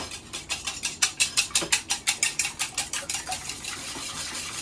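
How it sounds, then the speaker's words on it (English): Eggs beaten in a bowl with a whisk or fork, a rapid run of about twenty sharp clinking strokes in a steady rhythm, close and fairly loud, then fading into a softer scraping wash. "So we'll beat up these 8 eggs."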